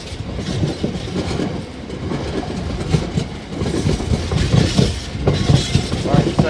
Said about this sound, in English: Like I say, a really well loaded intermodal.